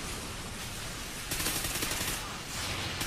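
Gunfire in the Call of Duty: Ghosts Blitz match on the map FreeFall, a continuous dense crackle that grows louder halfway through with a burst of sharper shots, heard over game noise.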